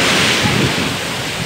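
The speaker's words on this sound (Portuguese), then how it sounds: "Olha aqui as ondas" Ocean waves on a beach in Portugal, a loud, continuous rushing wash of surf close by with no pause.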